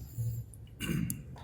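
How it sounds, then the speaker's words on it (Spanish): A man clears his throat and coughs twice, briefly and close by, during a quiet pause in a sermon-style talk about evangelism. "A ver si se me calma la tos."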